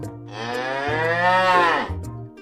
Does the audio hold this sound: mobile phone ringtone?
no